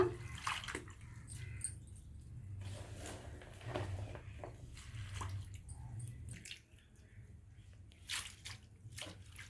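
Spinach leaves being rubbed and swished in salt water in a bowl, with soft splashing and dripping in short bursts, quiet and close, in a village kitchen.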